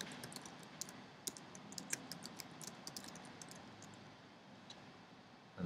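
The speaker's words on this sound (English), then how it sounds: "first I'll just type in his address" Quiet, irregular clicking of keys on a computer keyboard as an email address is typed, a run of close, light taps with short pauses, heard alone without talk.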